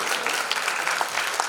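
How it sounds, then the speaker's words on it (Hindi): Dense, steady applause from a crowd at a gathering, a brief continuous burst of many hands clapping at even loudness. "सूरज के लिए भी ताली"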